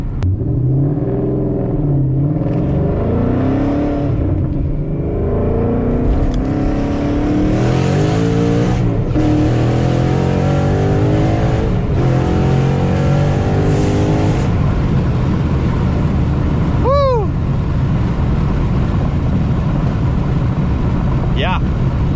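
A car with a Corsa exhaust revs and rumbles loudly on a freeway with a deep, throaty exhaust note, surging and easing under road noise, with voices talking over it.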